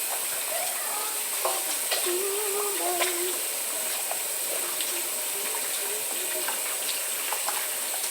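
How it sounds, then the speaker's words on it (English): Water running and splashing as kitchen equipment is rinsed after making scones, a steady hiss with small clinks and scrapes of utensils throughout, fairly close and moderately loud. "I'm just washing off the rest of my equipment right now"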